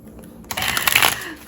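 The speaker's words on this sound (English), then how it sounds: "we'll give the cards another shuffle here" A deck of tarot cards being shuffled, a quiet pause followed by a burst of rapid riffling flutter lasting under a second, close and fairly loud.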